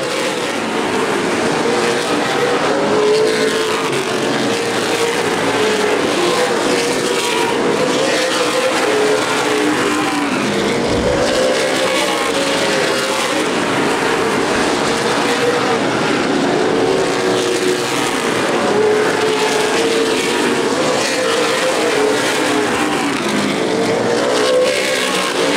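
Race cars lap an oval at Anderson Speedway during a CRA Super Series 300-lap event, their engines making a continuous loud droning roar with rising and falling waves as the pack streams down the main straightaway.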